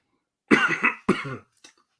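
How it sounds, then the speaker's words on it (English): Two harsh COVID coughs in quick succession, close and fairly loud, followed by a faint short sound and silence. "I've got this weird COVID cough that's developed today."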